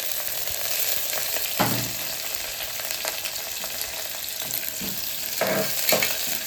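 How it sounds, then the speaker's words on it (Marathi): Onion frying in hot oil for mutton sukka masala gives a steady, close sizzle, with a few stirring scrapes rising over it now and then. No voices are heard. "त्याचसोबत आपल्याला कांदा ॲड करायचा। याला चांगलं फोडणी बसवून घ्यायची"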